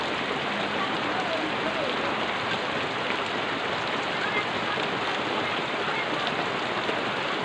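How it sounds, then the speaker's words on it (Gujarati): Steady monsoon rain falls in a dense, even hiss with no pauses, about an inch of rainfall with water pooling. "પાણી ઘણું ભરાઈ ગયું એકાદો ઇંચ વરસાદ આવેલો છે"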